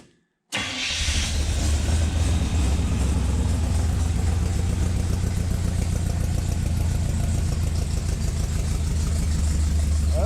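A 1935 Chevy street rod fires up after a brief silence and settles into a loud, steady idle through a Flowmaster exhaust, its rumble close and continuous with a slight rhythmic lope.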